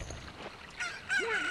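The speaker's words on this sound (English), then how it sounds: "A chicken hatched from the egg!" A chicken (cucco) in Zelda: Ocarina of Time squawks in a couple of bright, rising honk-like cries that grow louder toward the end, with no talking.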